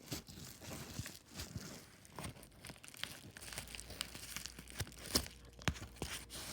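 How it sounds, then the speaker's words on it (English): Scissors snip and tear through a paper envelope holding a boxed action figure, giving close, irregular crinkling and crunching bursts with a few sharper cuts near the end, and no talking. "we got this in an envelope, so let's go open it. I'm gonna use these scissors"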